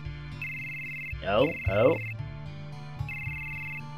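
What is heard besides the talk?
telephone ringing in video game Final Fantasy VII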